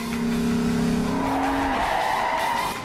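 A drift car in a Lexus commercial skids with a sustained, steady tire squeal that climbs in pitch midway and then fades out.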